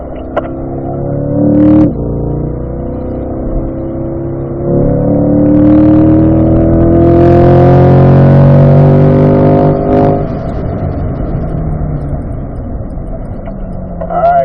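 A car driven at full throttle on a race track, its engine loud and close as it revs up through the gears in rising sweeps, easing between shifts, with no talking over it.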